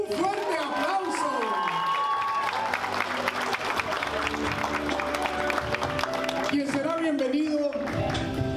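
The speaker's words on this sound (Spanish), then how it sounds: "¡Un fuerte aplauso!" Applause from guests at a baby shower party in a banquet hall, sustained clapping with some cheering, mixed with talk and a background voice throughout.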